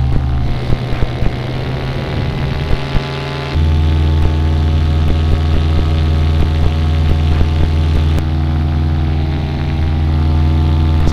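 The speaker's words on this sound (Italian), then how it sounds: "Come primo volo gli do una bella tirata di orecchie a sto motore." A new paramotor engine on its first test flight, droning loud and close with a strong propeller hum, then stepping up sharply into a harder, steady high-revving roar for the rest.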